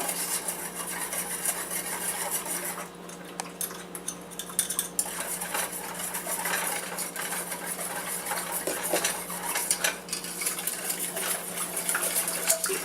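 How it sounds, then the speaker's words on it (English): A whisk stirs sugar and cornstarch in a pan, scraping and clinking against the metal in a steady, continuous rhythm, close and fairly loud. "Now we're going to really have to start whisking on this."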